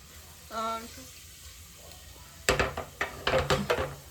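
Whole spices such as bay leaf, cinnamon, cloves, marathi moggu and star anise fry in a pan for Mysore-style white pulao, starting as a quiet hiss and then turning into a burst of loud metallic stirring clatter, with a brief voice early on.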